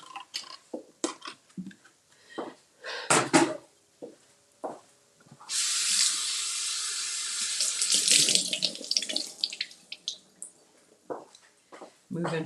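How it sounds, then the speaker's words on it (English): Fresh blueberries rinsed under a running kitchen tap, the water gushing steadily into the sink for several seconds midway, with brief splashes and handling noises before and after amid scattered talk. "I'm just going to wash these off."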